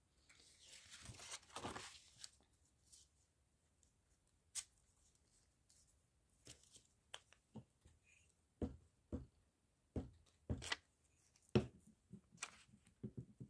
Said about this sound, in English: Glue stick all wobbling around